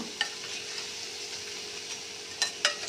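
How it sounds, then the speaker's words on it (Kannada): Onion bondas deep-frying in hot oil, a soft steady sizzle with a few sharp clicks and scrapes of stirring near the end, quiet and with no talk. "ಬನ್ನಿ ನೋಡೋಣ ಬೋಂಡ ಎಷ್ಟು ಫ್ರೈ ಆಗಿದೆ ಅಂತ"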